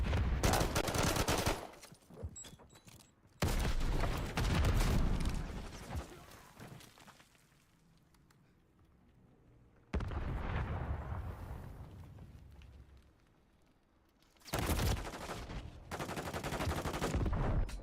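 Video game gunfire crackles in loud dense bursts, a long volley at the start, another around the middle, and more firing toward the end, separated by quieter gaps of ambient noise.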